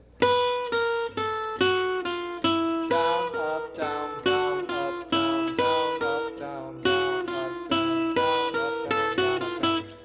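A jazz manouche guitar plays a quick line with every note picked separately, each attack crisp and evenly spaced in a steady, bouncing rhythm.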